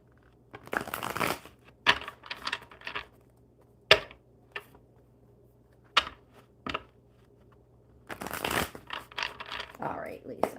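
A deck of tarot cards is shuffled in short, riffling bursts separated by pauses, close and fairly crisp, with a low steady hum underneath.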